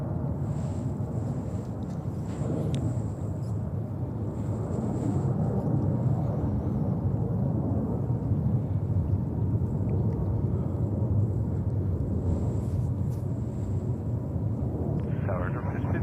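Saudia Boeing 777-300 airliner taking off at New York's JFK airport in winter, a continuous loud rumbling jet roar with wind buffeting throughout, faint radio chatter in the background.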